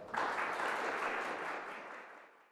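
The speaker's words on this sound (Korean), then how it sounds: "강민구 전 법원도서관장님을 큰 박수로 맞이해 주시기 바랍니다" A seated audience at a Supreme Court lecture in Korea claps warmly to welcome a speaker, a steady wash of applause that holds and then fades away near the end.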